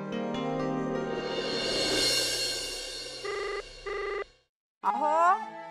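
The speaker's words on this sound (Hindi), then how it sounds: "जरा फोन घ्या।" A telephone bell rings loudly and continuously, with a steady electronic ring repeating in pulses. Near the end a brief burst of voice or melodic sound breaks in after a short silence.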